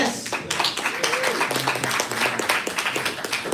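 Seminar audience clapping enthusiastically, brisk overlapping claps with a loud, close rhythm, while someone speaks and cheers over the applause.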